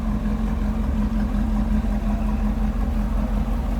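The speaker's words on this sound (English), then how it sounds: "Slip around to the back so you can hear this. No rumble coming out of that 327." A 1968 Chevrolet Camaro with a 327 V8 and mild cam and exhaust idles steadily from behind the car, giving a smooth, even low hum at moderate level with no revving and no voices.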